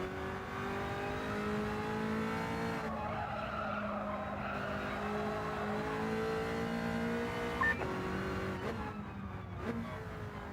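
Race cars in Gran Turismo 7, a Cosworth among them, scream around the track with sustained engine whine, gear shifts and tire squeal, the roar dipping and surging as traffic passes.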